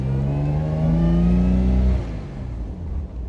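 A 1962 Jaguar E-Type 3.8 litre Series 1 roadster engine revs up loudly and close as the car pulls away on the road, then eases off into a lower steady drone.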